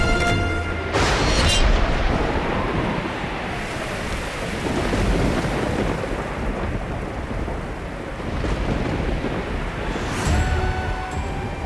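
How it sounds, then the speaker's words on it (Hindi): Heavy rain pours steadily throughout, with deep rolling thunder rumbling loudly near the start and again toward the end. "भयंकर बारिश होने लगी है।"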